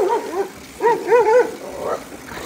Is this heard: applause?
no